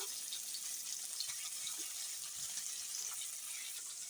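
Paneer pieces frying in oil seasoned with salt and turmeric give a steady, soft hiss and crackle that runs evenly throughout, with no talking.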